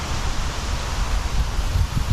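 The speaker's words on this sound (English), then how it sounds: "It's getting windy, so I've got leaves blowing all over the place." Wind gusts through a yard during lawn mowing, sweeping leaves around in a steady broadband rush with low rumbling buffets on the microphone, continuous and fairly loud.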